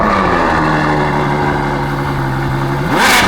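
A Ferrari 812 with its roughly 800-horsepower naturally aspirated V12 holds a loud, steady idle up close, then flares into a sharp rising rev near the end.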